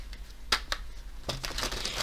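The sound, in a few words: shuffling tarot cards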